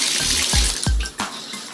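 Tap water rushes out with strong pressure in a home bathroom, a steady close hiss with a few soft knocks and thumps in the stream.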